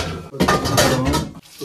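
Metal pots and dishes clank and scrape continuously while being handled and washed at a household sink, loud and close, with a brief pause partway through.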